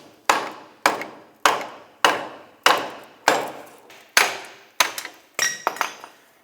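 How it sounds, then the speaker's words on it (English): A hammer strikes a rear wheel bearing hub assembly from the back side on a 2007-2010 Chrysler Sebring: about ten loud, evenly spaced metallic blows close by, each ringing briefly, the last few quicker and doubled. "I'm just gonna use my hammer, hammer this out from the back side."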